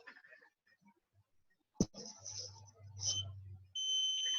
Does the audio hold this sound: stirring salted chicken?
no